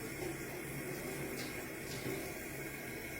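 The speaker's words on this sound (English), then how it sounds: "I'm just gonna reach over here, rinse it out a little bit." Running tap water splashing steadily as fresh mint is rinsed under a kitchen faucet, a continuous close wash of flowing water with no talking.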